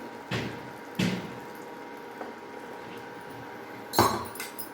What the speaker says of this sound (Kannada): ಈ ಥರ ಎಲ್ಲ ಬಸಿಬೇಕು ರೀ